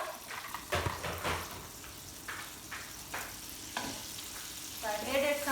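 Butter sizzling in a pan for lobster thermidor, a low, close crackle broken by several stirring scrapes and clatters, with a brief bubbling hiss toward the end and no talking.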